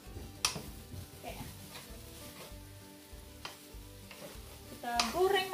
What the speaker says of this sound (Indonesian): Kita goreng menggoreng guys ya